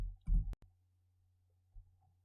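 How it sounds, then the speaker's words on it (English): A single F9 key press on a computer keyboard gives one short, soft click, followed by a fainter tap, over a quiet steady hum. "we select the two code lines and press F9 on the keyboard"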